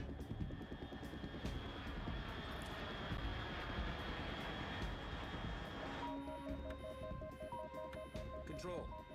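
A steady aircraft engine drone from the Metal Gear Solid 3 game hums continuously, joined near the end by electronic beeps and tones.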